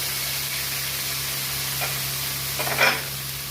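Ginger-chilli paste and tomato sizzling in a pan, a constant soft crackle over a steady low hum, with a brief sharper spatter near the end.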